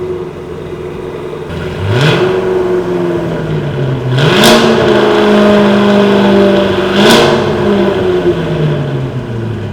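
A Cadillac CT5 Blackwing with the supercharged 6.2-liter LT4 V8 fires up and settles into a loud idle, then blips through a few rising revs with supercharger whine, close and steady.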